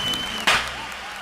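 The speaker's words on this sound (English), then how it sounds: "You don't have to clap again." One sharp hand clap to sync audio on a virtual collaboration call, a single close, crisp smack in the middle of a short stretch of low background hum.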